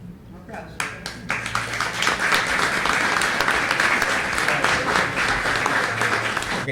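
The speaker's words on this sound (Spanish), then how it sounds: "Un aplauso." Sustained applause from an award ceremony audience, starting with scattered claps and quickly swelling into dense, steady clapping that holds loud throughout, with a faint murmur of voices mixed in.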